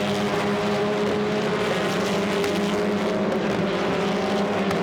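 TCR touring race cars scream down the back straight toward turn 3 at over 200 km/h during a Queensland race, a loud continuous high-revving engine roar with overlapping whines.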